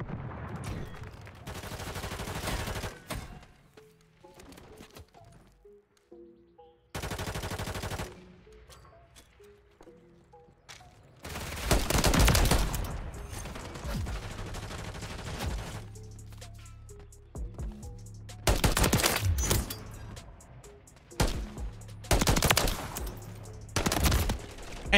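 Repeated bursts of automatic gunfire in a Call of Duty MW3 match, loud rapid volleys alternating with quieter stretches of game sounds, several bursts clustered toward the end.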